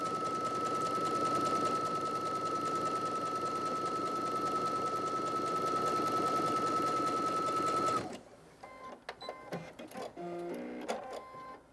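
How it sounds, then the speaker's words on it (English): A sewing machine runs steadily and loudly for about eight seconds, stitching a zigzag stitch along a raw fabric edge with a constant mechanical whir, then stops, leaving softer handling clicks and rustles. "stitch a zigzag stitch on your sewing machine"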